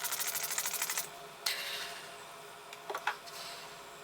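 A drugstore setting spray is pumped in a quick series of close, hissing spritzes, followed by a few more separate sprays, each sharp and airy in a quiet room.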